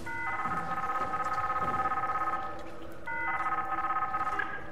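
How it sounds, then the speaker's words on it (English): An electronic phone in the SOMA game rings with a shrill, steady warbling tone in two long bursts separated by a brief pause, clear and fairly close over a low ambient hum. "Is that a phone?"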